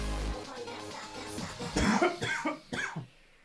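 Several harsh, close coughs in a quick cluster, rough and loud, trailing off into a final hacking cough, over World of Warcraft gameplay.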